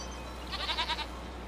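Goats bleating in the video game Farming Simulator 25, a short run of several quick, fairly faint bleats over steady background farm ambience.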